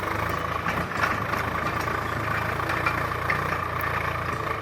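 Tractor engine running in farm fields during ploughing, a steady low idling rumble held evenly throughout, moderately loud and without talk.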